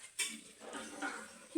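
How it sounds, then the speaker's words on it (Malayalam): Onions being sautéed in a pan for prawn curry give faint, scattered clinks and scraping stirs of a utensil against metal, quiet and close, ending in a sharper knock. "അങ്ങനെ അവൾ സവാളയൊക്കെ വഴറ്റുവാണേ."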